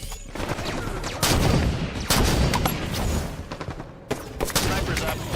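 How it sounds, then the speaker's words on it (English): Sniper rifle shots in a video game, several loud sharp cracks at irregular intervals over a steady battle din, with a voice faintly present. "sniper rifle"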